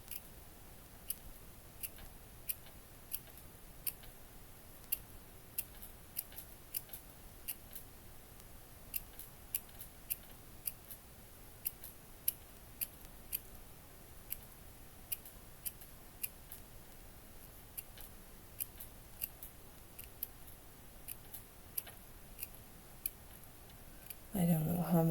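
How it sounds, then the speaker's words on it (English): Small scissors snip craft material into tiny pieces for a miniature cat cafe garden room box, quiet crisp cuts coming one after another at an uneven pace against a near-silent background, with a brief louder knock right at the end. "make a little strip here of that and then cut that into small pieces"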